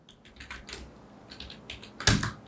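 Keystrokes on a computer keyboard while code is typed in an editor, a quick irregular run of clicks with brief pauses and a sharper, louder key press near the end, close and clear with no talk.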